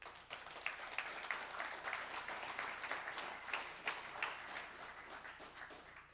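An audience claps at a live-streamed talk, a faint, dense applause that swells and thins over several seconds, heard from a distance with no voices over it.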